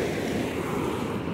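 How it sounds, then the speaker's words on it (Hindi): A deep, fast-flowing river in hilly country, rushing as a constant, dense roar of water close by with no breaks. "बहुत ज़्यादा फ्लो है, डीप की वजह से भी नहीं, फ्लो बहुत ज़्यादा है"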